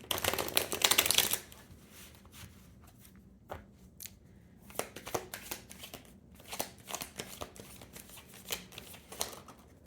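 Tarot cards get a fast, loud riffle shuffle close up, followed by quieter scattered flicks and taps as the deck is handled and laid out, with no talking.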